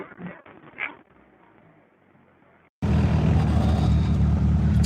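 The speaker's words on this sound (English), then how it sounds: "the engine runs great" Quiet fumbling sounds, then a 70-year-old car engine abruptly roars to life and holds a loud, steady, close idle.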